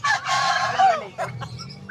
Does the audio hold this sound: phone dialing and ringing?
no